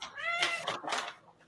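Excited house cats meowing for treats, with a close, loud pair of drawn-out meows followed by a fainter trailing cry, and no talk over them.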